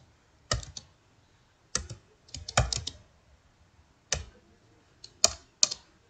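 Code being typed on a computer keyboard in short, separate bursts of clicky keystrokes with quiet gaps between them, close and clear with no talking.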